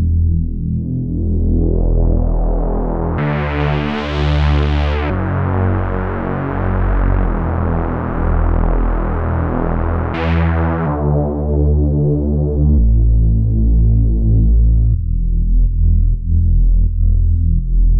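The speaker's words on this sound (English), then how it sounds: "Then I've got this bass. A little bit of detune, two oscillators, and unison." Deep, sustained bass from a Prophet 5 plugin synth, two detuned oscillators stacked in unison, loud and thick with stepping held notes and no voices.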